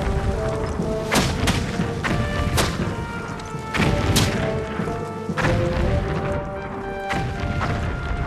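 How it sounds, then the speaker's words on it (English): Artillery cannon fire at a Battle of New Orleans reenactment, with several loud booming blasts spaced a few seconds apart over a continuous outdoor din. "Jackson's artillery responds."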